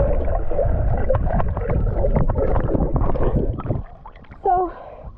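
Splashing and churning water as someone plunges into a cold mountain lake in the Desolation Wilderness, loud and close, then a brief breathy gasp-like vocal sound as the water noise settles.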